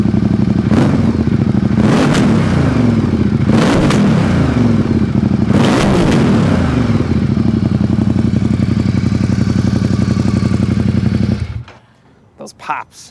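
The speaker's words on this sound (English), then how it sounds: "Those pops, man, definitely juicy." A warmed-up Ducati Diavel 1260 motorcycle engine revs hard in several loud bursts, each throttle blip followed by crackling exhaust pops, its steady idle rumble running under the revs before cutting off near the end.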